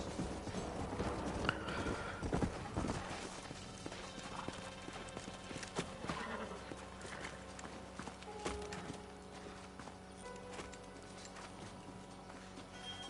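Steady horse hooves clip-clop at a walking pace in the video game Red Dead Redemption, with a distant whinny amid ambient rumble and faint mechanical sounds.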